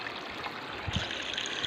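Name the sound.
flowing stream water filling a small dug well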